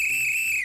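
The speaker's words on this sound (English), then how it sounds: "This whistle is great." A single shrill referee-style whistle blown for a football workout, one sustained bright tone lasting under a second that bends down in pitch as it stops.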